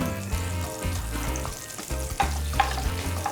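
Garlic stir-fries in a hot pan, a loud continuous sizzle broken by quick scrapes and tosses of a spatula, with a brief sharper clatter near the end and no talking.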